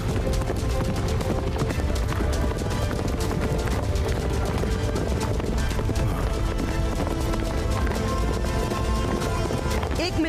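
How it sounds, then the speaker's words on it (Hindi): Cartoon-style horses galloping with rapid clip-clopping hooves in an action cartoon, a dense continuous rhythm under busy music and effects throughout. "अरे ये घोड़े कहाँ से आ गए?"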